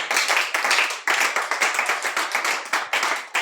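A church congregation claps to acclaim Jesus at a morning service, loud rhythmic clapping in a steady beat that fills the room.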